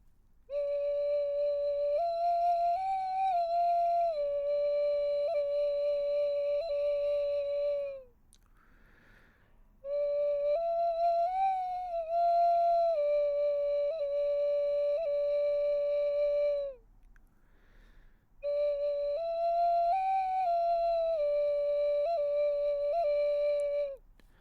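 A nguru, a Māori flute, played gently with the nose: three sustained, breathy whistling phrases with a repeating pattern, each several seconds long and separated by short quiet breaths.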